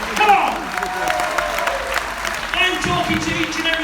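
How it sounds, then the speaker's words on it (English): Applause from an audience at a hypnosis show, steady clapping and crowd noise running through, with a voice talking over it. "Give them a big round of applause."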